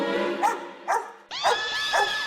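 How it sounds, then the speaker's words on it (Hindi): Small dog yipping and barking in an indoor comedy scene, four sharp barks spaced roughly half a second apart, loud and close with no talk over them. "ये कुत्ता तो कितना भौंक रहा है"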